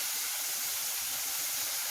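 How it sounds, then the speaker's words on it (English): Fillings for a cheesy omelet sauté in a pot, giving a steady, even sizzling hiss that stays constant throughout with no talking. "everything is in the pot and we're just sauteing"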